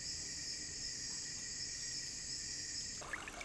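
Synthesized forest ambience: dense chirping of crickets, a steady high trill throughout that abruptly thins out near the end.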